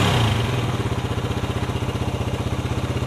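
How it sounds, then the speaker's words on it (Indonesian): A Suzuki Satria FU fuel-injected motorcycle engine idles close by with a steady, rapid pulsing chug and an even mechanical rhythm. A brief louder burst opens the stretch before the idle settles. "Oke, mesin udah nyala."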